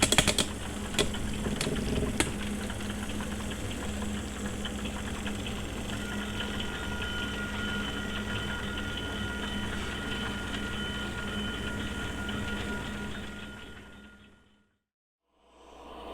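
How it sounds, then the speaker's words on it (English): Model train locomotives roll steadily past on track, a continuous mechanical hum with faint rhythmic wheel clicks, a few sharp ticks early on, before fading out near the end. "now as you hear them come past, you'll hear nothing but the clickety-clack."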